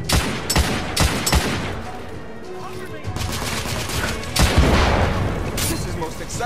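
Loud gunfire fills a firefight in The Order: 1886, with sharp repeated shots and bursts over a steady din of combat. A voice talks over parts of the shooting.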